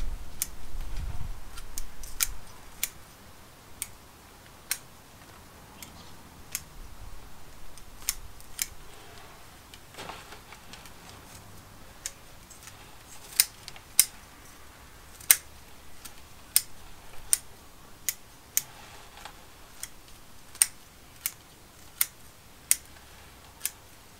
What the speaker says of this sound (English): Hear the crunching of the scissors as we go around.